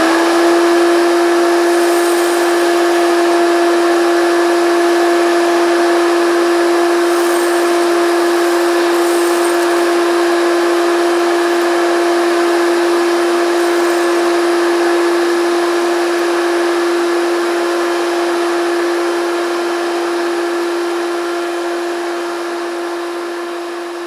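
A Maytag vacuum cleaner runs with a loud, steady motor drone and a constant whine, close by and uninterrupted, easing slightly toward the end, with no voices.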